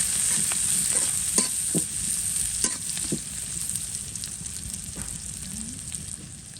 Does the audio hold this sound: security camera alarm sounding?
no